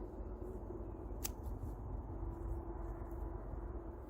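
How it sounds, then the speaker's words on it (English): Scissor blades snip once sharply through wood chips over a steady low rumble of background noise, close and fairly faint. "I almost can't cut through with scissors."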